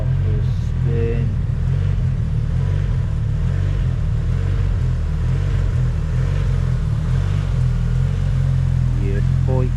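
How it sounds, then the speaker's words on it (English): A Nissan S14 engine idles and rumbles steadily close by, with a low droning note and light revs throughout, while a few voices talk over it. "Mike's just fired the car up. Gonna go and take her out for a spin."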